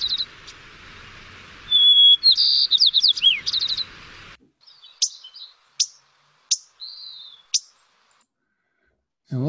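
A sparrow sings at Lake Tahoe: a whistled phrase breaks into a quick run of rising trilled notes, followed by a handful of sharp, spaced chirps and a short whistle, close and clear over a soft hiss.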